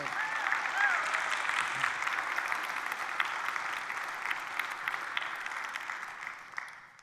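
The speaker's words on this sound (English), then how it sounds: "I want you all to give him a round of applause, Andre Christburg" Sustained audience applause at an MLK civil rights lecture, a steady wash of clapping that holds for several seconds and tapers at the end, with a voice faintly over it.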